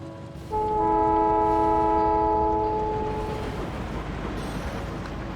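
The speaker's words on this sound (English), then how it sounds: "Okay, let's pretend the train is full. And send it on its way." A freight train in the Factorio 1.1 video game pulls away, with a loud sustained horn-like chord for about three seconds over a steady rolling rumble that carries on after the tone stops.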